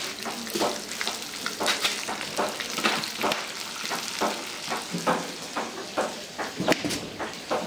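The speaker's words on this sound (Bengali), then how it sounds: "এবার আমি দিয়ে দেবো মুগের ডাল।" Mung dal frying in a pan over spices already browned in oil, giving a steady crackling sizzle broken by repeated scraping strokes of a spoon stirring at an even rhythm, close and fairly loud.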